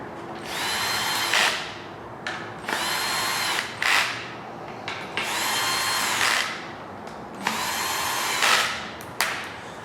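A power driver snugs down the oil pan bolts on a 5.3L LS LM7 V8 in four loud, close whirring bursts of a couple of seconds each, separated by short pauses.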